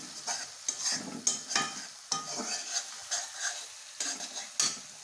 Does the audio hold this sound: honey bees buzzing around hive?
no